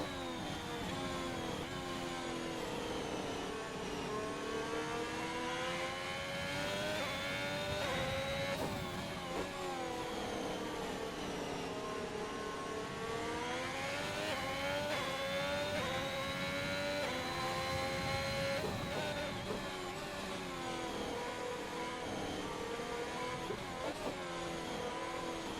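Formula 1 race car in a sim racing game at the France round, with its engine droning steadily at high pitch and rising and falling as it accelerates down the straight, loud and continuous throughout.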